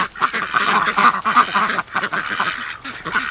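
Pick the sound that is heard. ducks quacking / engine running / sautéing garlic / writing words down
ducks quacking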